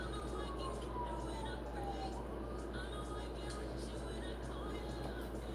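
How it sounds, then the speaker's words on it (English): Sirens wail faintly outside on New York City streets, a distant emergency-vehicle tone sliding downward under a low steady hum and room noise. "You hear the sirens?"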